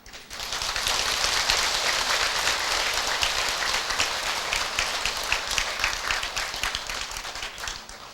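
A large congregation at a Buddhist prayer service claps together in a broad, even wash of applause, sustained and dense from start to finish.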